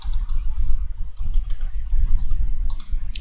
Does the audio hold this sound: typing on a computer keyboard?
yes